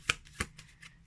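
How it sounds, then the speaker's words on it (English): A deck of 8-bit Tarot pocket-size cards with a pixelated linen finish is shuffled up close, giving a few quick papery riffling bursts that fade over about a second. "definitely no issues in shuffling"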